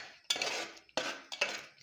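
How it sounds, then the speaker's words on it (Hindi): Metal spoon scraping and stirring semolina halwa in milk in a pan, three separate strokes, each with a sharp onset and a short fading scrape, close and fairly quiet, no talking. "चम्मच आपने हिलाते रहना है।"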